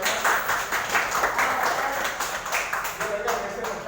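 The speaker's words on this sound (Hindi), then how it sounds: "ताली बजाओ।" A group of children claps hands in a brisk, fairly loud burst of applause lasting several seconds at a Gandhi Jayanti and Lal Bahadur Shastri awareness event, with voices mixed in.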